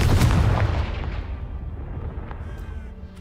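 A Confringo spell blast in Hogwarts Legacy bursts loud and close at the start as a heavy boom, then rumbles down into a fading decay with scattered debris clatter.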